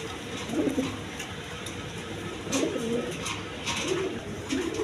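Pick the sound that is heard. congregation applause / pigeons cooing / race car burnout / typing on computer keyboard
pigeons cooing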